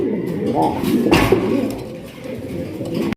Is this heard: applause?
no